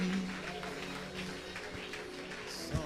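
A church congregation applauding to acclaim the Lord, a moderate sustained patter of clapping from a crowd, with a faint voice and a brief thump near the end.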